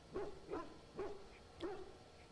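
The companion dog in the Dragon Age: Origins video game barks four times in an even rhythm, moderately loud and alone with no talking.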